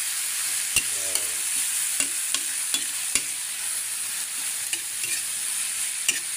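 Anchovies for adobong daing dilis are stirred in a frying pan: a steady sizzle runs underneath while a utensil knocks and scrapes against the pan every second or so.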